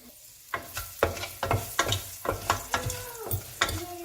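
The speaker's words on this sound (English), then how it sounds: "Fry these up till the ginger cooks just for about 30 seconds or so" Chopped ginger fries in a pot for a one-pot vegetable biryani, with a soft sizzle broken by about a dozen quick, rhythmic stirring scrapes close up and no talking.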